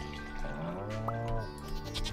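A goat bleats while being milked on a farm in Stardew Valley, a short wavering cry heard clearly over soft background game music.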